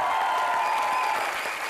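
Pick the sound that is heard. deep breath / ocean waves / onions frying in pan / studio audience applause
studio audience applause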